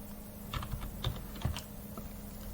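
A short burst of computer keyboard typing, a handful of crisp close key clicks spaced unevenly over a faint steady hum.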